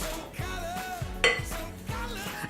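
Crushed biscuit crumb base for a chocolate strawberry cheesecake is tipped into a springform cake tin, with close, light clinks and scrapes of utensil against metal in a short quiet stretch.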